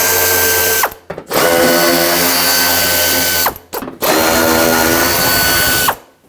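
A ratchet backing out 10mm fender liner screws on a 1995-2004 Toyota Tacoma wheel arch: three loud, close bursts of rapid clicking separated by brief pauses, with no speech.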